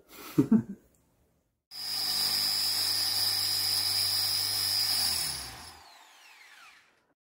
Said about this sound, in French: Mika est en train de s'affairer à percer des trous dans les équerres pour qu'elles s'adaptent parfaitement aux trous préexistants dans Alfred